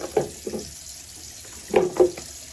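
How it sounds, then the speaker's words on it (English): Water splashing at a bathroom sink while a face is washed: a few short splashy bursts, close and moderately loud, with no voices. "So I go just wash my face with some."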